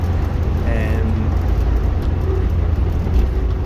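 A Morris Minor drives along roads in Gateshead during a test run after an engine rebuild, giving a steady low engine rumble and road noise throughout with no let-up.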